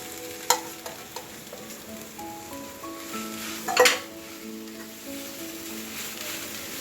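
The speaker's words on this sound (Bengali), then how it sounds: "এবার দেব এর মধ্যে সোয়াবিনের পেস্টটা।" Soybean paste fries in a pan while being stirred. Several sharp knocks of a utensil come early, then a soft steady sizzle with a louder scraping clatter midway and some faint tonal sounds in the background.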